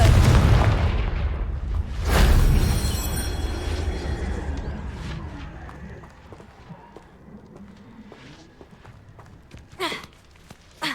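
A Confringo blasting spell explodes in the Hogwarts Legacy video game, a loud booming burst near the start that rumbles off into scattered game effects and fainter thuds, with a voice speaking over it.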